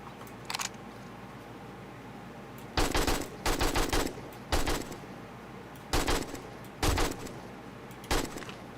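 AK rifle fire in the game 7 Days to Die: several sharp bursts of rapid shots in short clusters, separated by quiet gaps, loud and close.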